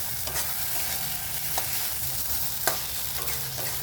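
Mann kochu paste frying in a pan while being stirred, giving a continuous loud sizzle with occasional scraping clicks of the spoon, no talk.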